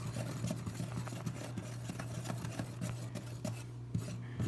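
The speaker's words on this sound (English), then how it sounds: "now I got my whisk, and I'm just going to start whisking it up" A whisk scraping steadily through a dry seasoned flour coating for pheasant tenders in a bowl, a close, continuous rhythmic rasping with fast repeated strokes.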